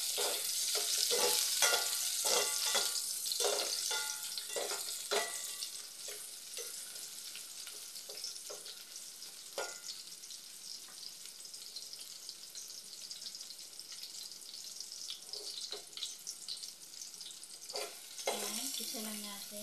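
Onion being sautéed in a pan for a Filipino sardine soup with udon: a low sizzle with quick, rhythmic stirring taps early on, then a quieter, steady fry with scattered clinks.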